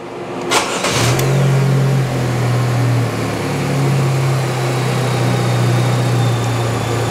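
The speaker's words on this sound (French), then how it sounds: "On va démarrer le moteur." A GM 1.4L engine with AC and stop-start, mounted on a test bench, cranks briefly and catches, then runs at a steady loud drone with a strong low hum that holds for several seconds, with no voices.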